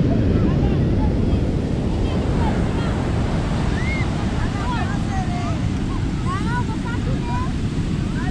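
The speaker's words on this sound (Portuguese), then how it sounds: "Vento, frio, mar batendo" Rough ocean surf churns and crashes continuously on Copacabana beach under gusty wind buffeting the microphone, with faint voices and high calls scattered in the background.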